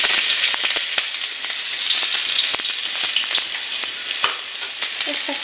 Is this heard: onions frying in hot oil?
yes